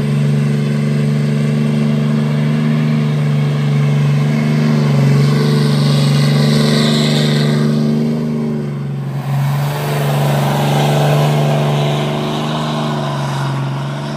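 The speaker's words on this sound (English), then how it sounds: "I guess it's only proper that we do a good old burnout on the specialties just to entertain you guys" A 4th-gen Cummins diesel pickup holds a loud, steady roar through a burnout, its deep engine drone and tire noise continuous for the whole stretch with a brief dip midway.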